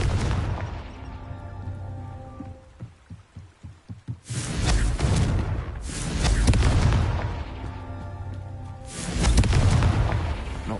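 Confringo fire spell bursts in the Hogwarts Legacy video game, booming explosions with rolling rumble, preceded by a quick run of soft thumping pulses, then two more big blasts later on.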